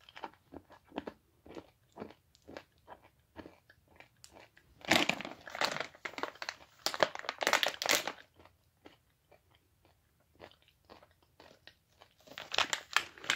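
Close crunching and chewing of a crunchy fudge and peanut snack, irregular bites and crackly chews that swell into dense bursts midway, with no speech.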